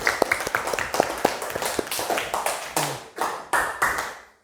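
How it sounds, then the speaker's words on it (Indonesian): A classroom group claps hands together in a quick, uneven burst of sharp slaps that builds for a few seconds and then trails off, close and fairly loud. "Ya, tepuk tangan dulu lagi."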